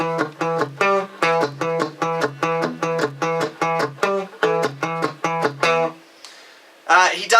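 A guitar plays the rhythmic, funky boogie riff from the outro of a song, with clear repeated note patterns in a steady groove for about six seconds, then a short pause and a brief spoken fragment.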